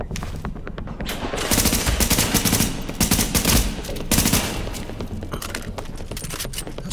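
Submachine gun fire in The Division video game, rapid sustained bursts rattling loudly and close, repeating in dense volleys across the whole stretch with only brief gaps.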